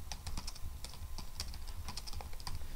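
A computer keyboard is typed on at close range, quick uneven clicks of keys in a steady burst, quiet and without talk.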